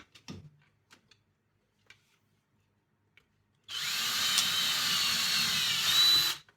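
A power drill bores into an old 3D-printed plastic part, a Raspberry Pi carrier, running as one steady loud whine for about three seconds after a few faint clicks and handling knocks.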